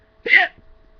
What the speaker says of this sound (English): Sorry, that was a hiccup.